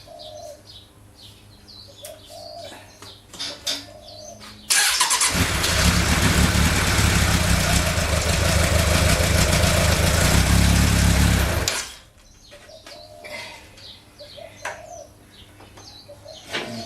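A Suzuki Bandit 1200 motorcycle engine cranks and catches after an oil service, then idles loudly and roughly for about seven seconds before cutting off, with birds chirping faintly before and after.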